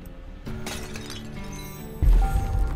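Shatter ability effect in the video game Inkbound, a crisp breaking and smashing burst over layered game music, ending in a louder low impact.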